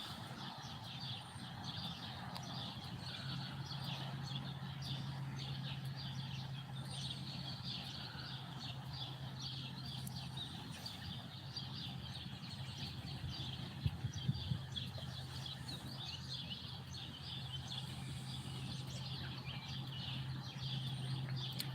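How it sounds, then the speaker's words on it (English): Evening birdsong in Olney, Illinois, a steady faint chorus of chirps and calls carrying on throughout, with a low constant hum running underneath. "just listen to the birds"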